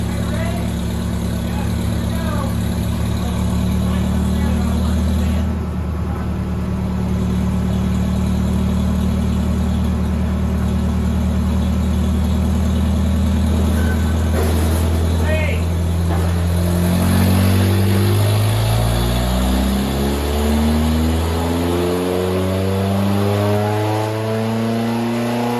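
The Race Terra car runs on a dyno cruising in third gear, a steady loud engine drone with rising and falling harmonic tones as revs change, under intermittent talk.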